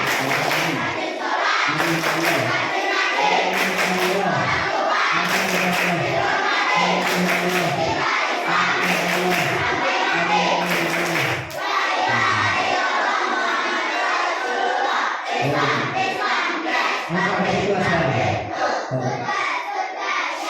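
Children at a TPA/TPQ Halal Bi Halal gathering chant the tepuk anak soleh together, loud rhythmic group voices punctuated by regular bursts of clapping that repeat across the chant.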